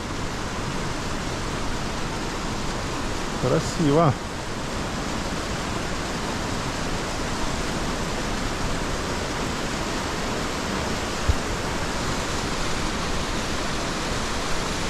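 Small waterfall on a mountain trail near Rosa Khutor and Krasnaya Polyana, a steady broadband rush of flowing water throughout, with a brief spoken word near the start.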